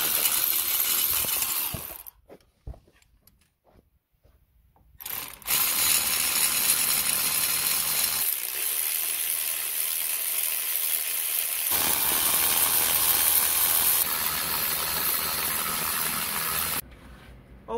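Ratchet wrenches clicking on the bell housing and starter motor bolts of a 2014 Mazda 2 during a clutch replacement: close, rapid ratcheting in bursts separated by short pauses, with metallic tool handling.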